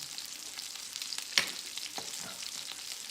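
Steady frying sizzle of chicken in a pan with a crackling hiss throughout, plus a sharp clatter partway through as something is moved in the pan.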